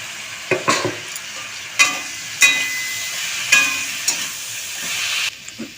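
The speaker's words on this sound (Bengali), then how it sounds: "মশলা দিয়ে আমার ভালো করে কষানো হয়ে গেছে" Banana flower with chickpeas, spice paste and sugar is sautéed in a pan with a low continuous sizzle, punctuated by sharp, irregular knocks and scrapes of a spatula against the metal.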